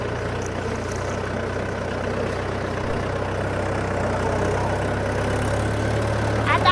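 A farm tractor engine runs at a steady idle, a continuous low rumbling drone with no break, no change in pace and no talk.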